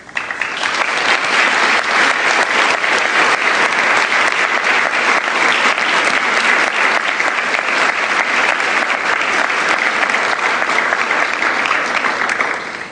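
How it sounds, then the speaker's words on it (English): Sustained, loud audience applause fills a formal award ceremony honoring women of courage, steady dense clapping from a large room that holds for over twelve seconds before tapering slightly at the end. "Please, another round of applause."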